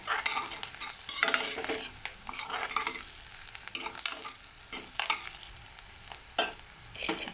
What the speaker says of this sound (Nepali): प्याजलाई अलिकति ब्राउन बनाउनुपर्छ